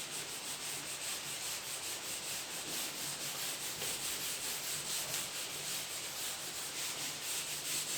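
Steady, continuous rubbing of an eraser across a classroom board, a dense scratchy swishing that runs unbroken for several seconds, close and fairly loud, with no one talking.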